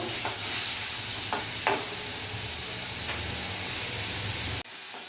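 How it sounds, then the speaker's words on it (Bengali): Shrimp fry lightly in hot oil with a steady, close sizzle, broken by a few spoon-stirring scrapes before the sound cuts off abruptly. "চিংড়ি মাছগুলো আমি বেশি ডিপ করে ভাজবো না, কড়া করে ভাজবো না, হালকা ভেজেই তুলে নেবো।"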